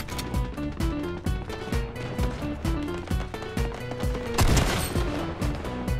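Rapid Fortnite gunfire cracks in quick bursts with several distinct weapons, close and loud, plus a heavier blast near the end, with game music or effects layered underneath.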